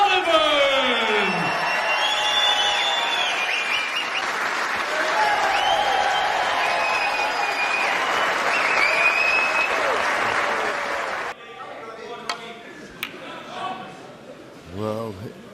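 Snooker crowd at the UK Championship final applauding and cheering Ronnie O'Sullivan's win over Neil Robertson, a loud, dense roar of clapping and whoops lasting about eleven seconds before cutting to quieter scattered claps and voices.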